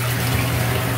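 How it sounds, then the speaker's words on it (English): Tap water runs steadily into a bathtub, making a loud, continuous gushing rush with no pauses and no voices. "turn the water on real quick"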